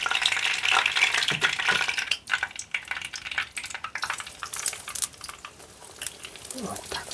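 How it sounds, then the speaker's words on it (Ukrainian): Belyashi, meat-filled dough pastries, frying in hot oil at medium temperature, a dense continuous sizzle with crackling bursts and occasional scraping of a utensil, close and fairly loud. "І так смажимо всі біляшки."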